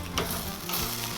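Beef back ribs sizzle steadily on a KUDU grill, a close, continuous frying crackle with a brief scrape or clatter as the meat is flipped.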